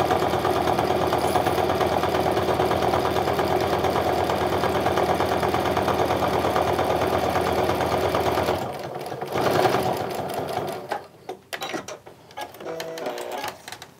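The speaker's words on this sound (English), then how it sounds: "when I put that in my sewing machine" A sewing machine stitches wallet card pockets with interfacing in a steady, fast mechanical whir for several seconds, then slows and stops, leaving softer handling noises.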